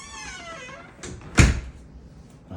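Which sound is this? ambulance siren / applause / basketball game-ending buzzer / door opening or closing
door opening or closing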